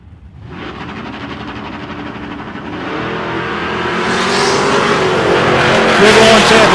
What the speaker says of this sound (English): Good launch there for Robin, a 165 reaction there for Max